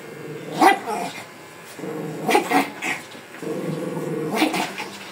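A dog barks in several loud bursts, close by, with short pauses between, mixed with some whining yips.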